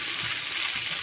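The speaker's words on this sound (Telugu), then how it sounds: "వేగుతున్నాయి కదండి" Food fries in a pan with a dense, even hiss and crackle, close and steady throughout, with no one talking.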